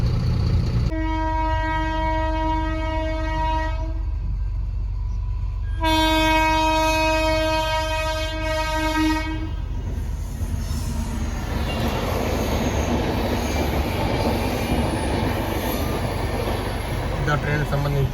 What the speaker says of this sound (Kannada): ಒಂದು ಗೂಡ್ಸ್ ಟ್ರೈನ್ ಒಂದು ಹೋತ್ರಿ